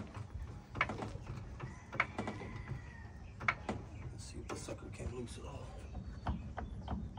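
An ungreased Harbor Freight jack working under a 1959 Chevy El Camino project car, giving off a busy mechanical ratcheting and clanking with a few sharper knocks, fairly faint against background noise.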